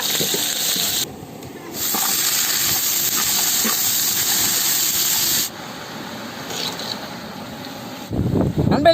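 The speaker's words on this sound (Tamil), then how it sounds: "கடுகு கருவேப்பிலை போட்டாச்சு போட்டு நல்லா எண்ணெயிலே வதக்கிக்கிறோம்" Mustard seeds, curry leaves and green chillies sautéing in hot oil for a roadside vegetarian meal, a loud steady hiss and sizzle that drops away briefly, then fades near the end as clattering and handling noises take over.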